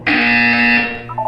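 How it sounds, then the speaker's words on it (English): A single loud, steady electronic buzzer tone from the video game Portal 2 holds for about a second, then cuts off, leaving a brief softer tonal blip. "When you hear the buzzer, look down at the floor."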